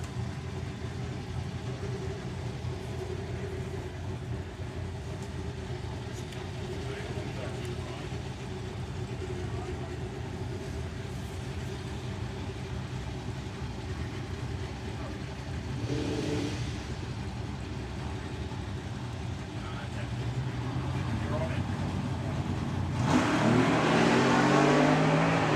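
Nostalgia Superstock drag racing cars at the STP Springspeed Nationals roar down the strip, a steady loud engine drone that swells with a louder rising burst near the end.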